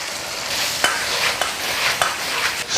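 Konjac tumbles into a hot wok with chicken feet and chili bean oil, a bright steady sizzle punctuated by a few sharp scrapes of the spatula as everything is stirred, close and continuous with no talking.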